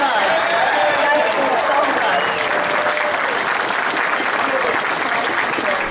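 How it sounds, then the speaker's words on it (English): A live audience bursts into sustained, dense applause after a Q&A session with Nichelle Nichols, steady and loud throughout with crowd noise mixed in. "A big round of applause for Nichelle Nichols."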